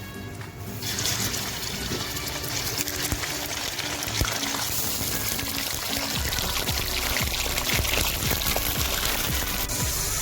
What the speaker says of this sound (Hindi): और इसके बाद इसमें मटन डाल दीजिए।